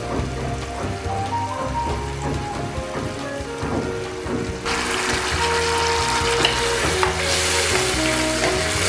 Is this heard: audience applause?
no